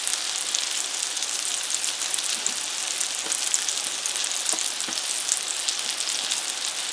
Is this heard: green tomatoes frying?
yes